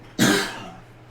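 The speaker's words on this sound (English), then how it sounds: "I got a cough one second." A single short cough, close to the microphone, with a sharp onset and a brief fading tail in a quiet room.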